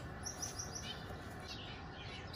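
Two newly hatched chicks from super jumbo eggs cheep in quick, high, thin bursts, a few rapid chirps in a row, faint over a steady background hiss.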